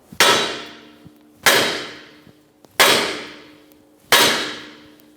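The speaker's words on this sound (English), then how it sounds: "by using a hammer, we're going to cause vibration" Four loud metallic hammer strikes on the front wheel hub of a 2015-2019 Subaru Outback land at a steady interval, each ringing out with a clanging decay before the next blow.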